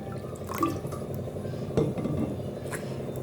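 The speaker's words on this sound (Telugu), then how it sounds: "ఫస్ట్ ఒక బౌల్ తీసుకొని దాంట్లో వాటర్ వేసేసుకోవాలి" Water poured into a bowl while preparing Kadapa-style mirchi bajji: a steady, close liquid filling with light drips and a few glassy clinks, and no talking.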